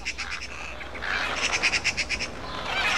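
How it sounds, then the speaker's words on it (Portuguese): Caged birds sing in a video game scene, with a run of short, bright chirps and trills that grows busier in the second half over a soft ambient bed. "Deixa eu ouvir o barulho do passarinho."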